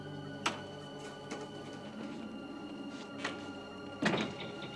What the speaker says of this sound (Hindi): दरवाजा बंद करो प्लीज